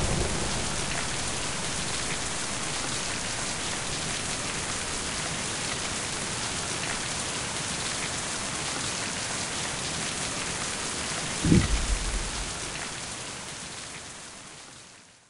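Steady, dense rain pours in the video game Mind: Path to Thalamus, a constant hiss throughout with one brief low thump near the end before the sound fades out.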